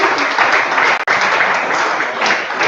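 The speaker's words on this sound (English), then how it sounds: "as you can see from the applause" An audience at a South-East voter campaign event applauds, a dense, loud burst of many hands clapping that holds steady with only a momentary dip, no voice rising above it.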